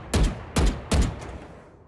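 Vandal rifle gunfire in Valorant: three loud, close single shots spaced about a third of a second apart, each with a sharp crack and a short decaying tail, heard alone.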